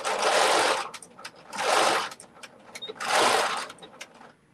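A sewing machine stitching a seam on a knitted sock, running in three loud, close bursts of rapid whirring with short pauses between.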